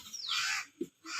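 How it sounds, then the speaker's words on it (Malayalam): A crow gives a short, harsh caw outdoors, a single brief call heard fairly close against faint background noise. "കാക്കകളൊക്കെ വന്നേണ് കേട്ടോ"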